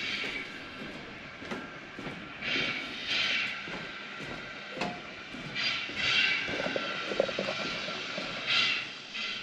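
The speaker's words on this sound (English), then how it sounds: "they got a big train engine down there running" A big train engine idling at a historic railroad museum in Ely, Nevada, a steady distant rumble with periodic hissing surges and faint clanks, heard from some way off without talk.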